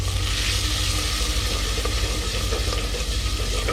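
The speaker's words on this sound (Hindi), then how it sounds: "फ्राई कर लेंगे इसको" Spices, salt, red chilli and tomatoes fry in a pan for a Pakistani vegetable dish, a loud, steady sizzle and hiss that runs unbroken from start to finish with no talk.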